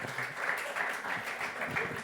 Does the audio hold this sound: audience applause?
yes